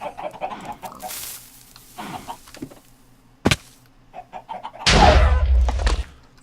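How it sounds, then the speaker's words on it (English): Minecraft chickens cluck in short, scattered bursts, with a sharp thud midway and a louder crunching blast of game noise near the end, and no talking over it. "Now I just got to take care of these chickens"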